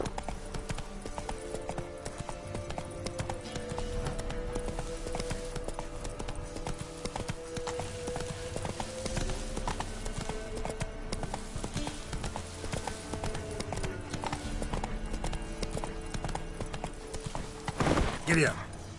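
Horse hooves gallop steadily through The Witcher 3, a continuous clip-clop rhythm over dense game ambience and music, with a brief louder burst near the end.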